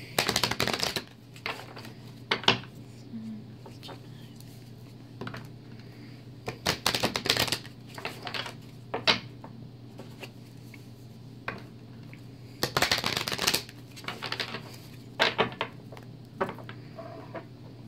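Romance Angels oracle cards are shuffled by hand in rapid riffling bursts with quieter flicks and taps between them, close and crisp.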